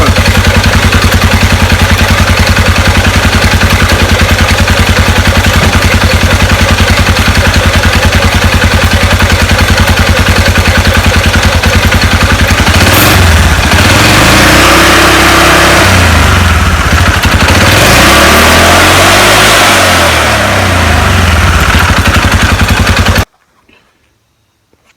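A Polaris RZR 570 side-by-side being checked for a wiring fault and primary clutch replacement revs loudly up close, a steady pulsing engine roar that swells and falls in a few throttle blips before cutting off abruptly, leaving near silence.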